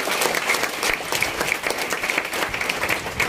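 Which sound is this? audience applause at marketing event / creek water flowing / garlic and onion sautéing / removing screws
audience applause at marketing event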